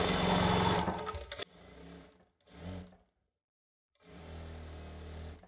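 A sewing machine stitches a kids' dress in a tailoring class: a long loud run of rapid needle chatter, then two shorter bursts separated by pauses, and a final steady run.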